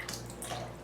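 Tap water runs steadily into a basin where a wool blanket is being soaked in cool water, a continuous close rushing and splashing with no voices.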